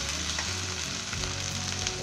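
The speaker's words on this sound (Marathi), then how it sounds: "आता मी कढईमध्ये थोडा तेल टाकते आणि हे भाजून घेते." Okra sizzles in a little oil in a kadhai, a dense, steady crackling fry with small pops, close and continuous with no voices.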